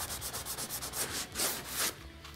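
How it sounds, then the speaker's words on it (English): Rhythmic scraping of sandpaper along a countertop edge to strip off tough dried glue, close and steady with repeated back-and-forth strokes and no talking. "I'm just sand these up."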